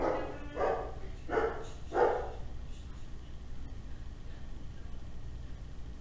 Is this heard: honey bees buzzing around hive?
no